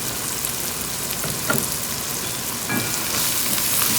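Food roasts in a tray on medium heat for Saudi kabsa, giving a continuous close crackling sizzle with a few sharper pops and spatters and no talk.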